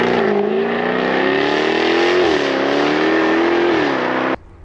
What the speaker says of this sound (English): Have you ever wondered just exactly how loud the exhaust is on a Jaguar F Type?